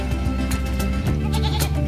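Goats bleat at a livestock market in Malasiqui, Pangasinan, with loud, wavering, nasal cries that overlap one another at close range against a busy crowd murmur.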